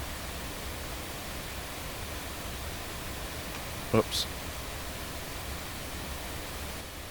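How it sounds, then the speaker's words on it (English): A steady hiss of pink noise at 0 dB from a PSP Xenon limiter plugin fills the clip at even level, briefly interrupted by a short spoken exclamation near the middle. "you can see that it's generating pink noise at 0 dB"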